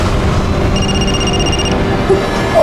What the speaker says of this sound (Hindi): उसी वीडियो वाले नंबर से फोन आया, उसी नंबर से